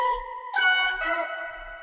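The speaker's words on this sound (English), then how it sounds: "it's basically the previous vocal chops, but then pitched an octave higher with this button over here" A synthesized vocal chop pitched an octave higher for a future trance break plays alone in two sustained, tonal phrases with a bright, clean timbre and a pitch step midway.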